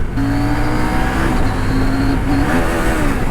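A CF Moto 800MT touring motorcycle engine runs steadily while riding, with a sustained loud, even drone and shifting tonal whine across the whole stretch, close and continuous without speech.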